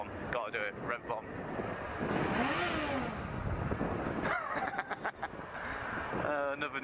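Motorcycle engine revs hard from a pillion-passenger ride, rising and falling in loud bursts against heavy wind buffeting on the microphone, with a brief voice underneath.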